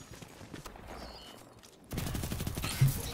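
Rapid SMG fire from the Dawning event weapon Cold Front in Destiny 2 PvP. A fast rattling burst starts abruptly midway and runs to the end, after quieter game sounds.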